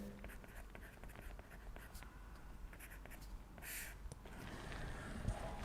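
Marker or chalk writing on a board during a lecture, a steady scratchy stroking that runs throughout with short pauses, fairly close, over a soft room hum with no clear speech.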